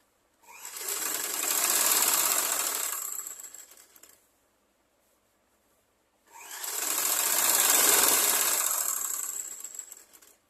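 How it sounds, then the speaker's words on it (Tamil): A sewing machine stitching a blouse, with two sustained bursts of fast whirring stitching, each several seconds long and separated by a brief pause, loud and close with no voices. "இன்னொரு தையல் போட்டுக்கிறோம்."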